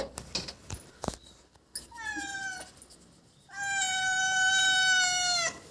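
A village cat meows nearby: a short call after some clattering, then a long, drawn-out meow that holds and fades.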